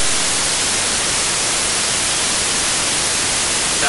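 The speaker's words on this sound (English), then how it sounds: "this is a specific pattern called white noise" White noise played as a demonstration of a sound pattern, like radio or TV static: a flat, loud, unbroken hiss spread evenly across the whole range, steady for about four seconds with no voices.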